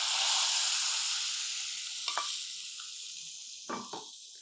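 Asafoetida and cashews for a tempering sizzle in hot oil in a pan with the stove switched off, making a steady close hiss that slowly eases, broken by a couple of short stirring clinks.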